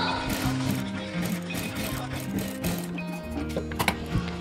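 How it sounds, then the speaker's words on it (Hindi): A sewing machine runs a straight seam along a patchwork neckline, its steady mechanical whir and rhythmic ticking close by, broken by short pauses and a few clicks. "अब यहाँ पर इस तरह से एक धार सिलाई लगा देंगे।"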